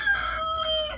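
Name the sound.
rooster crowing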